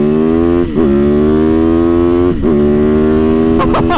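A street legal supermoto motorcycle revs hard and close, its strong harmonic engine note climbing steadily with brief dips between gear changes and a few sharp blips near the end.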